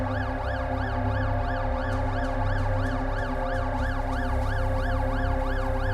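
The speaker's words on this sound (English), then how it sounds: "Ambulance." An ambulance siren wails in the video game The Alters, a loud, steady rising-and-falling tone cycling over a constant low hum, with no talk.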